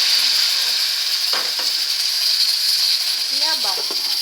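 Brown rice sizzles steadily in a pan on the stove after a little water is added, a loud continuous frying hiss with a few short clinks and stirring sounds.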